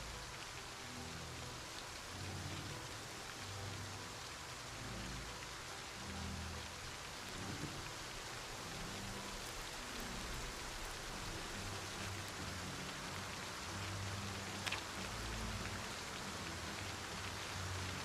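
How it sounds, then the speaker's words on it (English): Steady rain ambience from the video game Project Zomboid, with a constant hiss of rain on surfaces and low rumbling underneath, heard alone without voices. "It's just the rain ambience."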